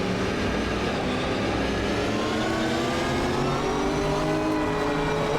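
A race car engine in the driving game Automobilisa 2 revs hard and steadily, its loud, continuous drone rising and falling in pitch as the car accelerates, with no talk over it.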